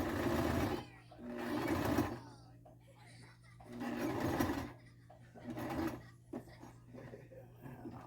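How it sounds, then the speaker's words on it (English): A sewing machine stitching a chin strap onto a hat runs in several bursts of rapid whirring, close by, with quiet pauses between runs and a voice talking at low level. "Needle in, go forward. Then I got back stitch."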